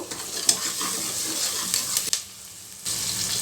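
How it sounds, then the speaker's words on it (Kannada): Curry leaves fry in oil with a busy, crackling sizzle, broken by a few sharp spatters and a brief lull before the hiss returns at full strength. "ಕರ್ಬೇವು ಒಂದು ಸ್ವಲ್ಪ ಚೆನ್ನಾಗಿ ಫ್ರೈ ಆಗಬೇಕು"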